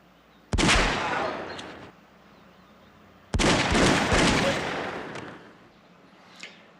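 Two loud bursts of gunfire in X-Files The Game on PlayStation, each a sharp onset followed by a long decaying roar, the second burst lasting longer than the first, with no voices.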